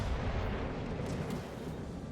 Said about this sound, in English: we'll take the shot at the Bismarck since he's right here